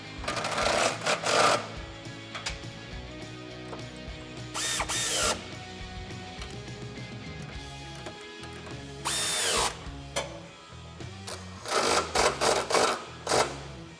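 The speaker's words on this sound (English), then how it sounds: "So now we're going to tighten up the bolt that holds both of our brackets together." Socket and wrench driving the step bracket bolts on a Jeep Wrangler JL 4-door while fitting stainless drop nerf side step bars, heard as several short bursts of ratcheting and mechanical clicking separated by pauses, close by.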